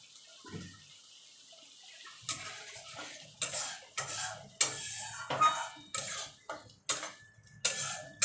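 Spices sautéed in oil for a pointed gourd dish, with a spatula scraping and clattering against the pan in regular strokes over a faint sizzle, close and clear, after a quiet start.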